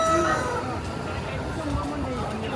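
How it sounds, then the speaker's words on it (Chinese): Live chickens at a busy traditional market in Huaxi, Guiyang, clucking and crowing close by amid a steady babble of shoppers' voices and market noise. "全是鸡"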